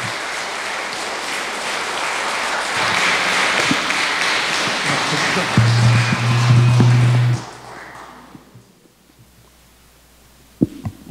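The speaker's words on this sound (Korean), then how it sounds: "뜨거운 박수로 신부님을 맞이하겠습니다." Warm applause from a church gathering welcoming a priest at Gungdong Catholic parish in Daejeon, steady dense clapping for several seconds before tapering off to quiet, with a sharp tap near the end.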